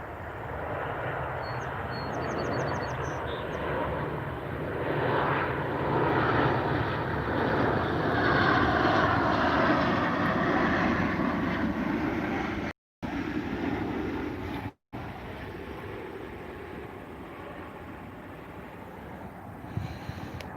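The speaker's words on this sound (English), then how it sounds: "Can you hear this big-ass plane?" A large airplane flies overhead, its broad engine roar swelling steadily and filling the sky for about twenty seconds, loud and continuous outdoors with no talking.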